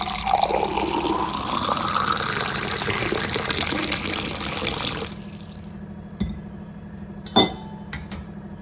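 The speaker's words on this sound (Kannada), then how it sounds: "ಈಗ ಬೆಳಬೆಳಿಗ್ಗೆ ನಾನು ಬಿಸಿ ನೀರನ್ನು ಕುಡಿತಾ ಇದ್ದೀನಿ" Hot water is poured into a cup or glass, a rising liquid fill lasting about five seconds, then a few soft clinks of the vessel at close range.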